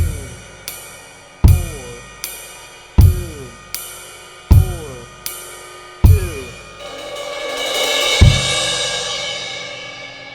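A drum set groove plays ride cymbal quarter notes with bass drum hits. The ride taps ring steadily, punctuated by deep kicks, and a washy cymbal swell builds near the end.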